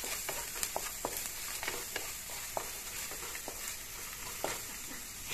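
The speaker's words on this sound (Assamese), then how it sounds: "এইখিনি এনেকৈ ভাজি" Onions fry in a pan with salt, turmeric and chili powder, giving a close, steady sizzle broken by scattered sharp crackles and pops.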